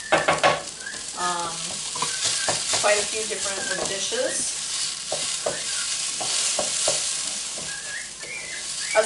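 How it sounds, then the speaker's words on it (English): Onions, rice and orzo fry in a pan while being stirred, giving a steady sizzle broken by scraping stir strokes, with brief speech over the cooking. "my onions were already starting to turn translucent, and my rice and my orzo is now starting to brown"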